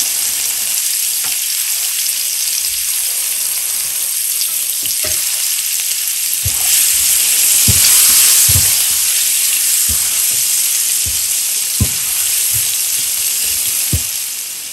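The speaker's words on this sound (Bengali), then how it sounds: "পেঁয়াজটা একটু লাল করে ভেজে নিব" About a cup of chopped onions frying in a pan for a spiced fish curry give a loud, constant sizzling hiss, while a spatula taps and scrapes the pan now and then.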